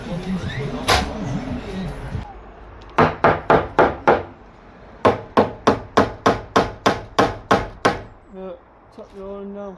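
Hammers tap pins into timber on a flat roof build, a run of sharp, evenly spaced knocks in two bursts with a short gap between them, some strokes overlapping as if two hammers are going at once; talk is heard at the start.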